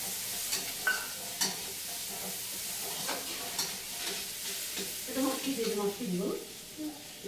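Food is stirred in a pan over the heat, with soft scrapes and clinks of a utensil over a low, faint sizzle. Quiet voices come and go in the background.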